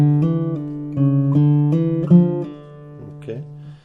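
A short Russian seven-string guitar phrase of plucked notes, with a few slurred hammer-on and pull-off changes, sounding close and clear with no talking.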